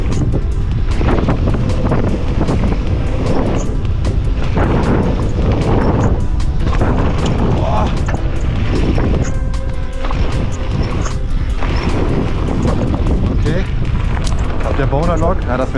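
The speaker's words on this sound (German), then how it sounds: "das wird gerade zu windig" Strong wind buffets the microphone in a constant roar while mountain biking at the Willingen bike park, with a voice talking faintly underneath.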